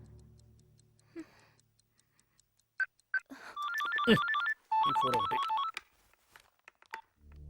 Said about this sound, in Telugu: చాలా సేపటి నుంచి ఫోన్ రింగ్ అవుతుంది, పికప్ చేయట్లేదు.